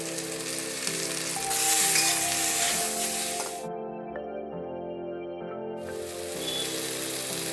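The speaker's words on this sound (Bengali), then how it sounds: "আর ফোড়নে দিচ্ছি একটু কালো সর্ষে আর দুটো শুকনো লঙ্কা।" Black mustard seeds, two dried red chillies and split green mango crackle and sizzle in hot oil, a loud, steady frying hiss with a brief quieter dip midway before the sputtering returns; prawn dish cooking.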